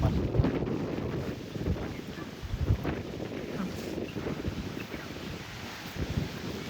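Steady blustery wind buffets the microphone over a low, continuous wash of water, with faint swells rising and falling throughout.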